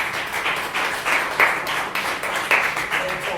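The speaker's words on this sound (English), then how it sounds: "Round of applause, please." Audience applause at a design conference session, a short burst of clapping with a few louder individual claps standing out.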